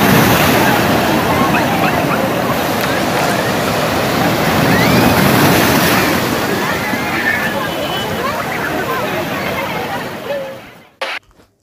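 Sea waves at Digha beach roll in as a loud, continuous roar of surf with wind noise, steady throughout before dropping away abruptly near the end.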